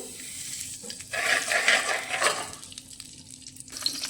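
Ghee heats in a kadai for a potato and vadiyan curry, giving a soft, crackling sizzle that swells in the middle and eases off, with a few faint stirring and utensil clinks and no talking.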